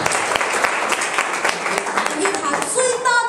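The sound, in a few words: audience applause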